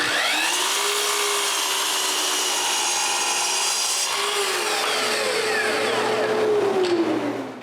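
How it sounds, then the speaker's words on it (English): A power saw cuts 45-degree miters in wood for a bathroom vanity base, two long whining passes with the motor pitch dipping under load, loud and close, no talking. "I make the 45-degree cuts first"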